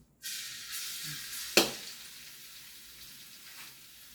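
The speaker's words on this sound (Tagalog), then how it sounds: "Sunod naman natin ay bawang. Lagyan natin yung bawang." Garlic dropped into hot oil in a pan for pork dinuguan bursts into a loud, hissing sizzle that holds steady. A sharper crackle flares midway, then the sizzle settles lower, heard up close with no talking.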